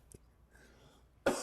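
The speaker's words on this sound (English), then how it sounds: "that's what made me cough" A single sharp, loud cough bursts out near the end after a quiet stretch, close to the listener, with a brief faint sound just before it.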